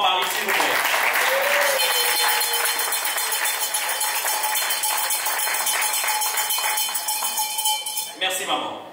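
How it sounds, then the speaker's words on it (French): Guests at a traditional wedding applaud in a dense, sustained wash of clapping, mixed with a ringing metallic bell-like tone and voices, loud and close before it fades out at the end. "si on va applaudir encore une fois pour Maman Marie, s'il vous plaît"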